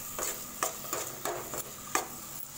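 Masala sautéing in a pan for raw plantain fry: a soft, steady sizzle with a regular spatula scrape about every half second, close and fairly quiet, with no voices.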